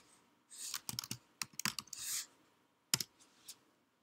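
Typing on a computer keyboard into a web browser: bursts of quick, close clicking keystrokes with short pauses between runs, then a few isolated taps near the end.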